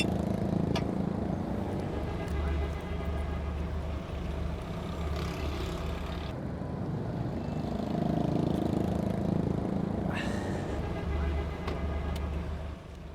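A car engine runs with a steady, low, droning hum heard from inside the vehicle, continuous for the whole stretch with slight swells and no clear talking.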